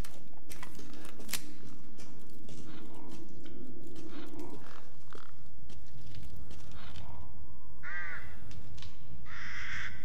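A crow caws in Resident Evil Village out in an open outdoor area, a few harsh calls near the end of a long stretch of rustling, crunching movement and ambient noise, with no talking.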